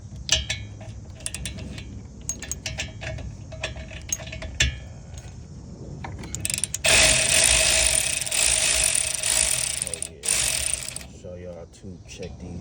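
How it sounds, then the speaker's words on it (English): Ratchet clicks and metallic clinks from removing brake caliper bolts on a 2017 Buick Envision 2.5L AWD rear brake, short bursts of ratcheting then a longer louder stretch of rapid clicking, close up. "let's get these caliper bolts out."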